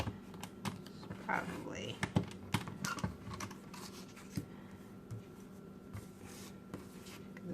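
Paper being cut to size for a mini planner, with a series of crisp scraping and clicking strokes at close range and a voice talking softly in between.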